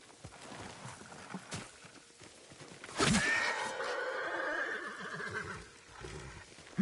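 A horse in the video game Ghost of Tsushima gives a loud, close whinny that swells and trails off, with soft hoof clip-clops and game ambience before and beneath it.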